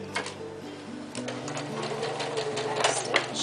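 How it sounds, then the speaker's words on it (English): Sewing machine stitching fabric for a small rune, herb or crystal bag, a steady close mechanical whir with rapid needle ticking that runs continuously, briefly changing pace partway through. "Just follow the line on your sewing machine to keep it neat."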